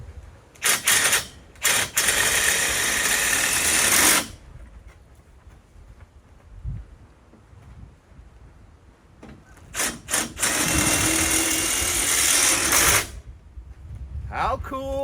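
A motor drives high tunnel flaps closed in repeated loud bursts of rapid ratcheting, mechanical clatter, separated by quieter gaps with a person talking nearby.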